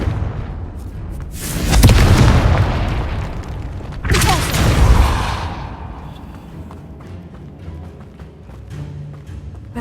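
Two heavy booming spell blasts from the Confringo fire spell in Hogwarts Legacy, each a loud broadband burst with a fading rumbling tail, about two seconds apart, followed by quieter ambient game noise.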